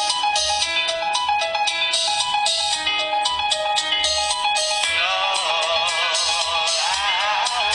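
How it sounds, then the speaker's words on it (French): Loud music plays from a mobile phone's side-mounted stereo speakers, a steady full-range track with bright sustained tones and a shifting melody throughout, no voices. "Vous allez voir un petit peu la puissance sonore du téléphone."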